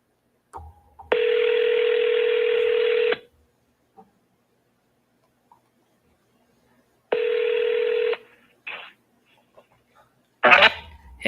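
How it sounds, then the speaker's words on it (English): Outgoing phone call ringback tone, two long steady buzzing rings separated by silence, followed by brief clicks and a short burst as the line connects. "do you hear that ringtone, Randy?"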